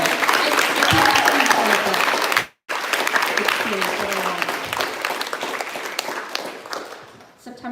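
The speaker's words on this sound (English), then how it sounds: "So can we actually just do another round of applause for that?" An audience at a poetry reading gives another round of applause, loud, dense clapping with some crowd noise that cuts out abruptly for a moment, then resumes and gradually thins toward the end.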